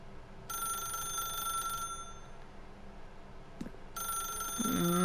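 A telephone in a video game rings in two bursts of bright, trilling bell tones, separated by a pause with a brief click, over a low ambient background hum.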